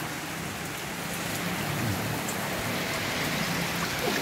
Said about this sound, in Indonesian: hujan dari pagi nggak berhenti guys